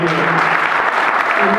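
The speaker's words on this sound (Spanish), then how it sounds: "hacerle un aplauso a toda la gente de General Belgrano" A crowd of General Belgrano fans at a supporters' club anniversary gathering bursts into steady, dense applause, loud and continuous, with voices faintly mixed in.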